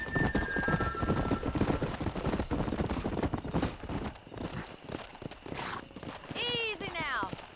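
Rapid rhythmic hoof clip-clop of a horse galloping in the Red Dead Redemption video game, running steadily throughout with game music and ambience, and a horse whinny near the end.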